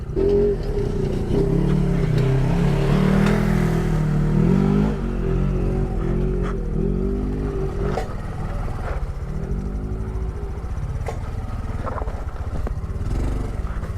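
Honda Trail 125 motorcycle climbing a rocky trail near Flagstaff and Sedona, its engine rising and falling as the rider works the throttle over rough ground, close and continuous with shifting pitch.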